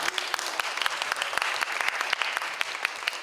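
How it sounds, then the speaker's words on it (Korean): An audience at a church worship gathering claps in steady, dense applause that holds at the same level throughout, with no speech on top. "우리 박수 한번 격려."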